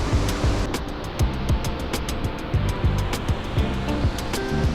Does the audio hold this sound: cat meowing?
no